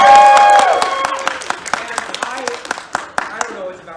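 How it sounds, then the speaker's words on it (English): Audience at a live comedy show giving a round of applause, a burst of clustered hand claps that tapers off irregularly while voices carry over it. "thanks everybody for give a round of applause one more time to all of us"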